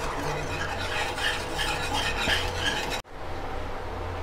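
A spoon stirring creamy white sauce pasta after more milk is poured in, making a steady soft scraping and bubbling that runs evenly, then drops out abruptly and resumes as a quieter hiss.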